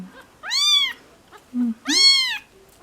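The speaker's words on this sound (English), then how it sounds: "today we have one of my new foster kittens joining us" A three-week-old foster kitten named Huey gives two loud, rising-and-falling meows close up, with a brief soft chirp between them.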